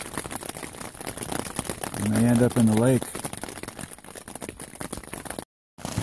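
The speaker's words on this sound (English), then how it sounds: "This is the sound of hail slamming my tent." Dense, rapid pattering and crackling of hail striking a tent, continuous throughout, with someone speaking close over it.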